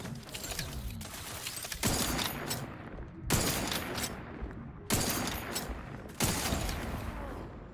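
Repeated bursts of gunfire from The Outer Worlds 2 video game, several distinct volleys a second or so apart, each starting with a sharp onset and trailing off, at moderate volume.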